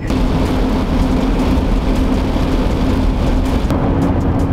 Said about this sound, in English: Every time it starts to rain.